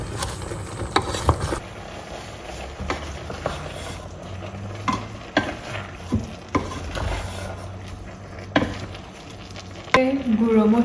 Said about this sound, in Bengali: ভালোভাবে এখন হচ্ছে পেঁয়াজটাকে মাংসের সাথে মিশিয়ে নিব।